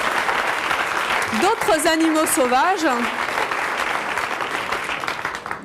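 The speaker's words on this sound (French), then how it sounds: "Oui, on peut l'applaudir." Studio audience at a French talk show breaks into steady clapping, loud and sustained, while a voice talks over the applause partway through before it thins toward the end.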